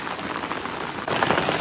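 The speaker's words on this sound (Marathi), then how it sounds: "पावसाचा आवाज बघ कसला येतोय" Heavy rain pours steadily over rice fields, a dense hiss of drops on surfaces that grows louder and closer partway through.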